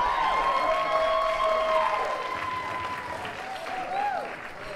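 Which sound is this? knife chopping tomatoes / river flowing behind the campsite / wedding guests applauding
wedding guests applauding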